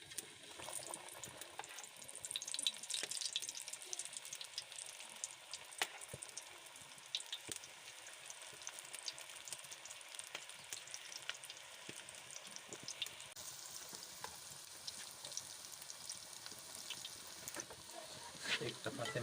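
Aloo palak pakoras bubble and sizzle steadily in hot oil, a continuous close frying hiss with occasional louder crackles throughout.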